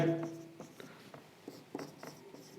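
Chalk or marker strokes on a classroom board while a maths formula is written, short faint scratches and taps in an uneven rhythm, heard close and quiet with no talking.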